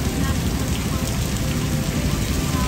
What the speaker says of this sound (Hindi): बहुत जबरदस्त बारिश लग रही है, देखो बहुत सही वाली बारिश हो रही है